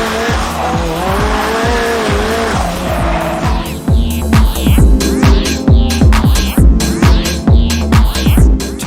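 Nissan S14 drift car driven hard, loud engine revving with repeated tire squeal and skidding, rapid throttle pulses throughout, close and alone without talk.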